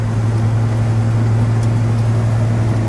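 A 1961 Chrysler 300G hardtop with a cross ram engine cruises along, its steady low engine drone and road rumble heard from inside the cabin, loud and constant without a break.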